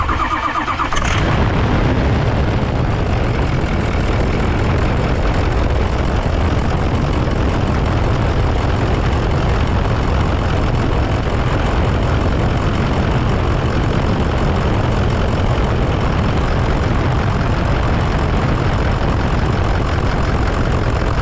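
A Ford F350 Super Duty engine cranks and catches, then runs steadily with the A/C compressor clutch engaged, a loud, constant broadband drone close by.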